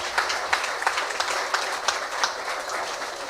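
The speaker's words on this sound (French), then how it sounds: "avec les applaudissements, ça va donner du courage" Audience applause at a company awards ceremony, a steady dense patter of clapping with regular sharper claps standing out, no talk over it.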